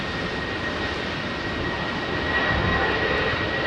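Jet airliner in Oneworld livery roaring at London Heathrow Airport on a windy day, a steady broadband engine rumble heard from a moderate distance without talk.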